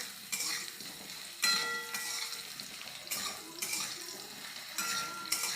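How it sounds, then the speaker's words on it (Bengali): Diced potatoes frying in a pan, a steady close sizzle with repeated scraping stirs of a spatula every second or so, moderately quiet, with no speech. "আলুগুলো লাল লাল করে ভেজে প্রায় হয়েই গেছে এবার তুলে নেব"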